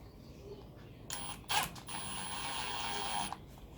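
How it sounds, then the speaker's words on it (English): A Milwaukee M12 FID Gen 1 impact driver drives a 100mm 10 gauge wood screw into radiator pine in a short burst of rapid mechanical hammering that runs about two seconds and then stops, close and fairly quiet, with no speech. "First up, the M12 FID Gen 1, 100mm 10 gauge wood screw,"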